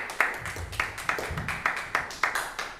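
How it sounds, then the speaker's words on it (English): Audience applause after a presentation at a sustainable gatherings talk, a sparse run of hand claps in a steady rhythm, fairly quiet and somewhat distant, fading in and out. "let's give another round of applause for Mark Iredell for coming out and presenting."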